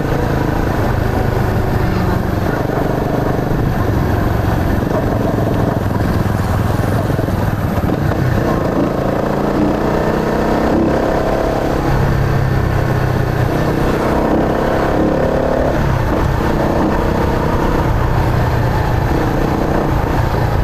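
A Rusi Flash 150X motorcycle cruising at about 90 km/h, its engine drone steady and loud, mixed with heavy wind buffeting throughout, with no talk.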